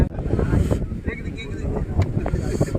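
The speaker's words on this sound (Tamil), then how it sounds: "காற்று அப்படியே சிலு சிலு சிலு சிலு சிலு அடிக்குது." Mountain wind gusts through the forest on Agathiyar hill, a steady, rough rumble of air buffeting the microphone, loud and continuous with no pauses.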